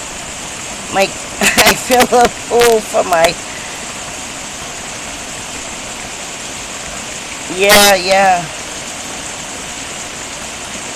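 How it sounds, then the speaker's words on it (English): Heavy rain during a thunderstorm in the Carolinas falls as a loud, constant broadband roar, with a voice speaking briefly near the start and again later over it. "But it's raining like a hell."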